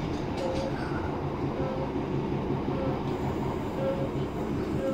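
Another train passes while riding aboard a Class 320 electric multiple unit near Motherwell, a steady, fairly loud rail rumble with faint tonal whines throughout.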